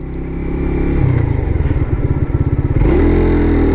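A Suzuki GSX-R150 motorcycle pulls hard in second gear, its engine note rising with a buzzing, pulsing throb before a brief dip and recovery, close and loud with no voices.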